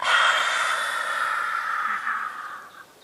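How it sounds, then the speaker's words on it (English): A long forceful lion's breath exhalation during yoga, one breathy hiss that starts strong and fades out over about three seconds, close to the microphone. "And as we exhale, coming forwards and coming into our lion breath."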